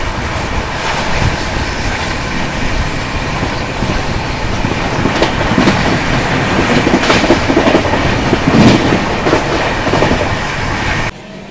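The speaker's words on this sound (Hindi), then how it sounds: "ये देखो भाई साहब, क्या रफ्तार पकड़ा है दोस्तों। स्किप कर रहे हैं चंदौली मझवार रेलवे स्टेशन" An express train speeds flat out through Chandauli Majhwar railway station in India, recorded from on board. Loud continuous rumble and rapid clickety-clack of wheels over rail joints, with brief sharper rattles, until it cuts off abruptly.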